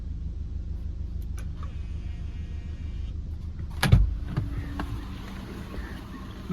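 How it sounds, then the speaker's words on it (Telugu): Motorized auto-folding side mirrors of a 2017 Maruti Ertiga Limited Edition VDI whirring steadily, ending in a sharp clunk as they lock into place, with a low engine or background hum throughout. "ఆటో ఫోల్డెడ్ మిర్రర్స్ కూడా వర్కింగ్లో ఉన్నాయి."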